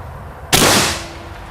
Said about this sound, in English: the big .50 caliber Quackenbush was figuratively and literally a blast